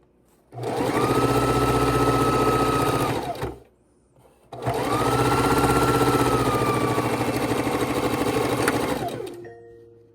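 A sewing machine stitches quilt pieces together in two long, loud, steady whirring runs of about three and five seconds, with a short pause between them.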